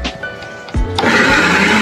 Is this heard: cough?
no